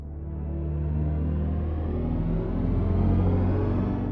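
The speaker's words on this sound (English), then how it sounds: "With HypersonX, we do have different driving sounds depending on the experience." A BMW Neue Klasse electric car plays its designed HypersonX driving sound, a smooth, layered synthetic hum whose pitch rises slowly and steadily while the car moves, close and alone.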